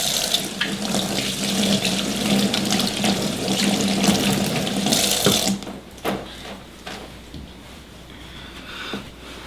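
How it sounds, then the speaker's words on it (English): Hands are scrubbed with soap under a running kitchen tap while cooking: a loud, steady close stream of water for about five seconds, then quieter intermittent splashes and rubbing, with no one talking. "Wash your hands, lots of soap."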